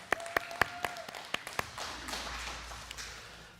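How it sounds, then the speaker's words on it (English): A small group at a weekly Torah study clapping, a handful of sharp, close claps early on that thin out into scattered, quieter clapping and faint room noise. "Yeah, you can clap."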